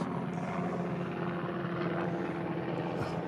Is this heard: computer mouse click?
no